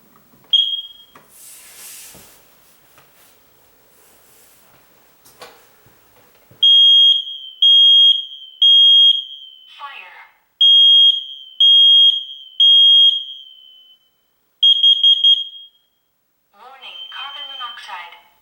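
A ceiling-mounted smoke and carbon monoxide combo alarm sounds loud, sharp high-pitched beeps in groups of three, then a quick burst of beeps, with a voice speaking between the groups and an earlier spoken announcement.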